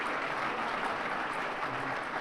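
Audience applause at an awards gala, an even dense wash of clapping from many hands held at steady volume throughout.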